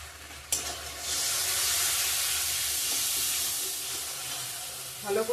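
Spices with salt and turmeric sautéing in a pan: after a sharp onset, a broad steady hiss of sizzling oil fills the clip, fading slightly, with a few soft scrapes of stirring near the end.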